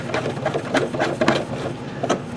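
A Janome sewing machine running a zigzag stitch: a fast, even mechanical chatter with soft rhythmic clicks, close and moderately loud, with no talking.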